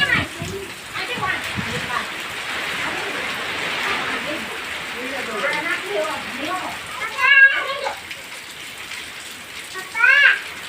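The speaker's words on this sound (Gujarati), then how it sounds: "ઓહો આખીરો વરસાદ આવ્યો." Heavy rain falls steadily on a farm after a windstorm, a continuous hiss of downpour with voices talking over it at moments.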